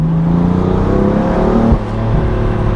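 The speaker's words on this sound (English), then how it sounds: "as I slip down into second and turn into this corner" A 2020 BMW M4 Convertible in Sports Plus mode on a winding road, engine droning loudly from inside the car, with a pitch shift as it drops into second gear for a corner, then a steady deep hum.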